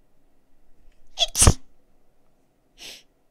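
A single sharp sneeze close to the mic with a brief inhale before it, followed by a fainter breathy sound a moment later, otherwise quiet.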